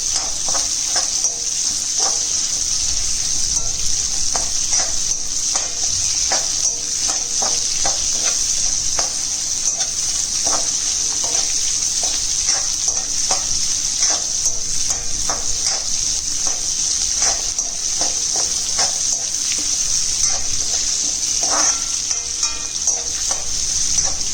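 Chopped onions frying on a low-medium flame for egg curry, giving a steady close sizzle with frequent scraping stir clicks throughout, and no voices.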